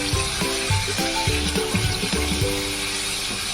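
Tomato with salt, turmeric and slit green chilies frying for a Pabda fish curry, a steady close sizzle with repeated spoon scrapes and knocks against the pan throughout, no voices.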